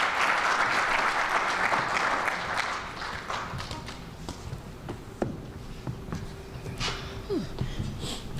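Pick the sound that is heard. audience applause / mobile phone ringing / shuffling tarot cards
audience applause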